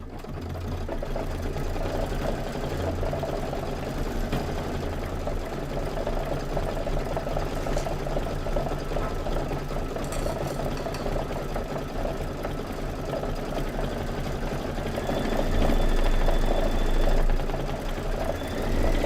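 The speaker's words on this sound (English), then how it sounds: "with all this stitching" A sewing machine stitches fabric steadily, a continuous close mechanical whir with rapid needle rhythm, rising slightly louder near the end, with no talk.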